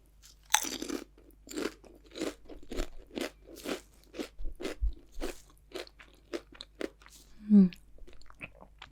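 Salt and vinegar crisps are crunched and chewed close to the microphone in a quiet ASMR setting, with a series of crisp, irregular bites and crackles spread across the clip, alone without speech.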